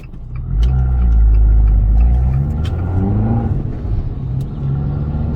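A warm Abarth 695 Esseesse, a 180 hp front-wheel-drive hatchback, idles with a loud, steady low rumble and a slight swell early on, heard alone without talk.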